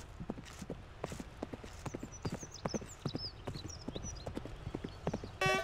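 Hooves clip-clop quickly and rhythmically as a horse gallops in the video game Abenteuer auf dem Reiterhof, with faint chirping birds in the background and a brief whinny near the end.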